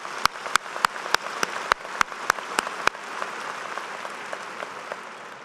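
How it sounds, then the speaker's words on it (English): A run of sharp, evenly spaced claps, then a softer, steady wash of crowd applause at a university business school commencement ceremony that carries on to the end. "give them a round of applause for what they did for this university"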